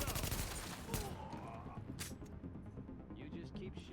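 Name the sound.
gunfire in the video game The Division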